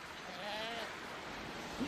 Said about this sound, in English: the goats are back, tormenting me